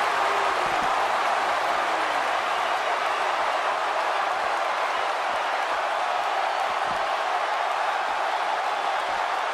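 Steady roar of an arena crowd during a wrestling video game match, a constant broad wash of cheering and murmur with faint scattered claps, running unbroken throughout.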